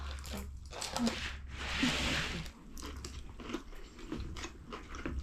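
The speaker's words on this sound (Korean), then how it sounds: "김밥 먼저 먹어야지" Close bites and crunchy chewing of kimbap, Korean seaweed rice rolls, come in irregular bursts, heard near and fairly quiet.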